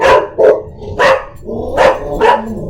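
Puppies indoors bark loudly and close at a washing machine running a load of laundry, five sharp barks in quick, uneven succession.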